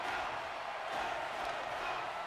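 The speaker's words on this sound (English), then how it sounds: "They're still chanting." An arena crowd chants during an NHL 24 hockey game, a dense, continuous roar that stays loud and steady throughout.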